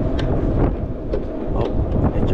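Strong outdoor wind buffets a microphone at a residential rowhouse building site, giving steady loud low rumble with gusty swells throughout and no talking.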